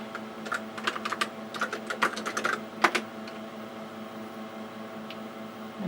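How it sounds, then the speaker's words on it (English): Keys clatter on a Tandy 6000 computer keyboard in quick irregular bursts of clicks over a steady machine hum, followed by a pause where only the hum remains. "now we enter, go to 1, 2, and we type budget 4"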